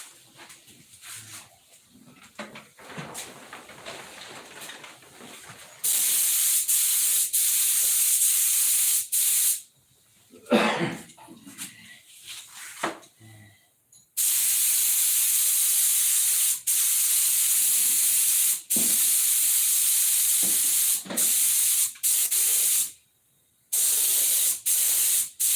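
A spray gun lays a thin final colour coat in long, loud, steady hissing passes of several seconds each, separated by short pauses. Quieter clattering and handling sounds come before the passes.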